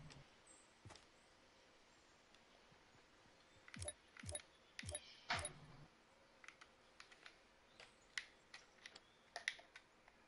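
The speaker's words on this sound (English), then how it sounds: "It sounds like you're typing." Computer keyboard typing during a Fortnite livestream, faint scattered key clicks in short irregular bursts over a quiet background.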